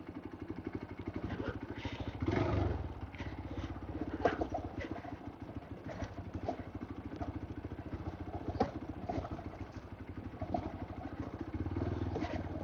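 A motorcycle engine chugs steadily through a water crossing near Sakaleshpura, Karnataka, with rhythmic engine pulsing, splashing and clattering throughout, and no talk.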